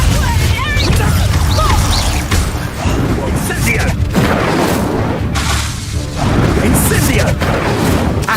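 An Incendio fire spell blasting in Hogwarts Legacy, with loud booming bursts and crashing impacts dense throughout, layered with a shouting voice and game effects.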